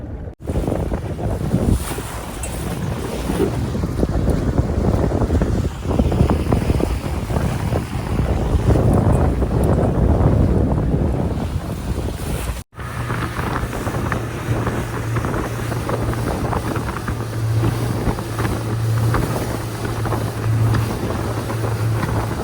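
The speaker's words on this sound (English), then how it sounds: "we'll get out of this wind" Strong offshore wind buffets a small fishing boat at sea, a loud continuous roar with heavy gusting against the microphone, waves and hull noise beneath, a brief cut midway, then a lower steady hum joins the wind.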